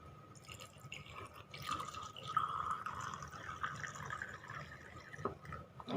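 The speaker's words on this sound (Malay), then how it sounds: "Jom kita tuang dulu. Sama je macam tadi, kita tuang je sampai penuh." Liquid is poured into the exhaust valve port of an engine cylinder head during valve grinding, a steady trickling, dripping splash that keeps going until the port fills, close and moderately quiet.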